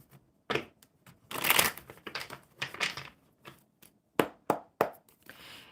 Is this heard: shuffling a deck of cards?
yes